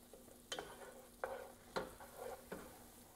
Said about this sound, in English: So you want to continue to let this saute for another 10 minutes